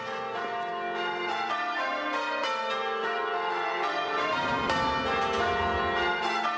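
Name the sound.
church bells ringing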